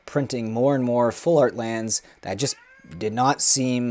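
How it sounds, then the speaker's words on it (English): A house cat meows in the background while someone talks continuously in the foreground, the short meows poking through between his phrases. "Sorry, that's my cat in the background."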